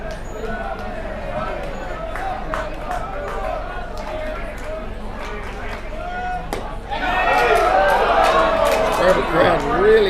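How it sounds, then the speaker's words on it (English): A baseball crowd in the stands at a Nashville vs Robinson game lets out a broad groan that rises in the last few seconds, after a stretch of murmuring chatter and a voice speaking. "Crowd really groans on that one"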